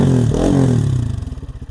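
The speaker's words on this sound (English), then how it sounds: "It's got a nice deep rumble to it." A 2023 Lifan KPM 200cc motorcycle engine with a performance exhaust revs with a deep, rumbling exhaust note, then settles into a throbbing, pulsing idle up close.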